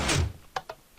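Automatic door in the video game Minecraft: a broad burst at the start, then two short, sharp thunks in quick succession, fairly close and clear, with no talk over them.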